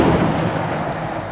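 A big Scania truck for DK Transport, a flatbed, rumbles past at Cairnryan port, its steady engine drone and road noise filling the short moment with no voices.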